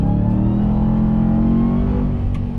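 A RAM TRX pickup's engine revs hard in second gear, its loud, droning roar climbing steadily in pitch as the truck accelerates, heard from inside the cabin.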